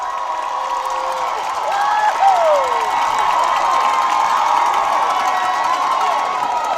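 A crowd at a high school basketball game, Jackson Olin vs Carver, cheers loudly and continuously in an echoing gym, the roar swelling and holding with scattered shouts.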